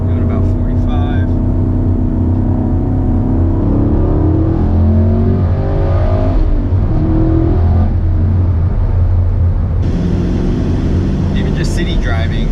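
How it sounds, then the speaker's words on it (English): A 2016 Chevrolet Camaro SS engine pulling hard in second gear at about 45 mph in sport mode, a loud, steady cabin roar rising in pitch, with a voice talking over it. "Here I'm gonna do another little second gear pull."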